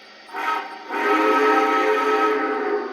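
A tonal toy steam whistle sounds in two blasts, a short one then a longer sustained one, loud and close.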